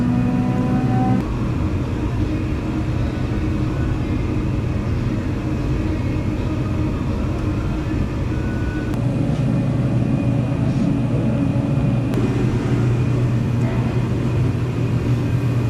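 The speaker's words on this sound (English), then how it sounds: "There goes the dyno." A car dynamometer runs steadily with a loud, continuous low engine and roller rumble that holds an even drone throughout, with no voices over it.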